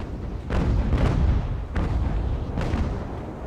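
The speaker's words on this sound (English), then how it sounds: "Redeemer's going to send the carronades in to damage the planking more" Carronade cannon fire from a sailing warship in the naval battle game Ultimate Admiral: Age of Sail, several deep booming blasts in an irregular volley, loud and rumbling with overlapping reports.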